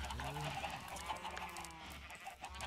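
Chickens kept for meat cluck faintly and steadily in the distance, with a soft background hum and no talking.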